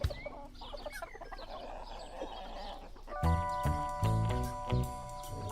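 Chickens cluck and cackle close by in a farm setting, scattered calls at first before louder tonal music-like sounds break in halfway through.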